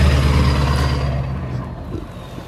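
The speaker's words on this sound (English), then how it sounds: "You're going to hear a big truck go by." A big truck rolls past nearby, its heavy low engine rumble loud at the start and slowly fading over a couple of seconds, with no talking.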